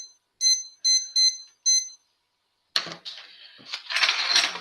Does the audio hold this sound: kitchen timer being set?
yes